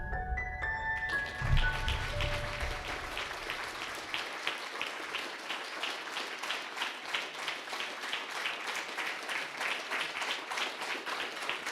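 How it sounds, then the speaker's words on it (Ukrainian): Award ceremony audience applauding after a performance, the hall's clapping building out of fading music into a steady, even patter that carries on for several seconds, fairly quiet overall. "Ваші оплески"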